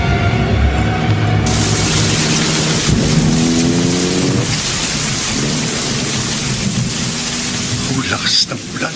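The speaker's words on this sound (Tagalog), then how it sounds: "Lakas ng ulan." Heavy rain pours down in a steady loud roar while thunder rumbles low and long beneath it, with the downpour continuing unbroken throughout.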